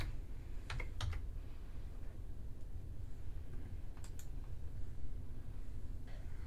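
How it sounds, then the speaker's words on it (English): Typing a folder name on a computer keyboard during an AWS cloud setup, with scattered key clicks in short bursts over a steady low hum, fairly faint and close. "key in a folder name Project3 and click on Create Folder"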